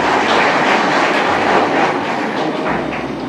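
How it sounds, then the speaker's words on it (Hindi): Audience applause at a youth event in Maharajganj, dense, continuous clapping heard from close by, fairly loud and steady for a few seconds with no talking over it. "तो एक बार अपने लिए भी तालियां बजा लीजिए।"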